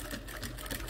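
Sewing machine stitching a seam on a pen-case panel, a steady fast mechanical whir running continuously at close range with no one speaking.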